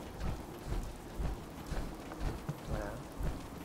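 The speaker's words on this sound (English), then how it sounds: "With this damn rain" Rain falls steadily in the Fallout 4 game world, a faint soft hiss with low rumbling thumps recurring at intervals beneath it.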